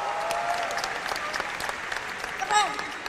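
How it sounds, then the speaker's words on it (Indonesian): An audience at a stand-up comedy roast claps steadily, a dense wash of applause with scattered voices and a brief louder burst near the end. "Tepuk tangan dong."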